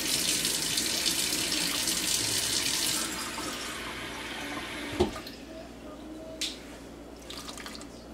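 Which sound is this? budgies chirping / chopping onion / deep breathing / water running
water running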